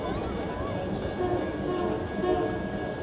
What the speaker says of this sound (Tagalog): Padating na pala yung tren.